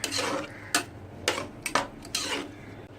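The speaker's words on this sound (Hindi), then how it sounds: "अब इसे अच्छे से मिक्स कर लेते हैं।" A spoon scrapes and clacks against a pot of vegetable daliya (broken-wheat porridge) with water in a few separate strokes, close and moderately loud, with no voices.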